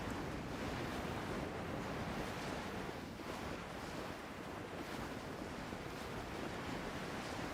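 Ocean waves in Genshin Impact wash in a steady, continuous surf with a windy hiss, loud and unbroken, with no talking.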